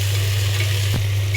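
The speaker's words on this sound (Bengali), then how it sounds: "এখন আমি ভালো করে পেঁয়াজটা ভেজে নেব।" Onions frying in hot oil in a pan while beef is prepared, giving a steady close-up sizzle with a constant low electrical hum beneath it and a brief stir near the end.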